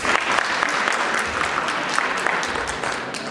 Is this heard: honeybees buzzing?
no